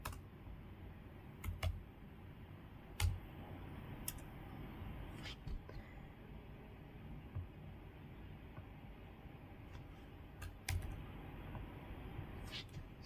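Faint, sparse keystrokes on a computer keyboard while entering a command, a few isolated clicks and short clusters spaced seconds apart over quiet room noise.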